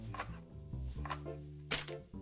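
A knife chops scallions on a board, a few quick soft taps in close succession, faint and close in a quiet kitchen.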